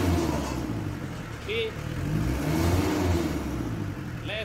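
A Mitsubishi 4D56 diesel engine with a white smoke problem, its fuel injection pump being adjusted, revs up in a rising, sustained roar at close range while someone speaks briefly over it.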